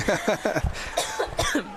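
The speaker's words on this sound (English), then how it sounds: "We both had a cough at the same time." A run of sharp, dry coughs, close and loud, several quick bursts in a row followed by a couple more coughs, from commentators at an Australian rules football match.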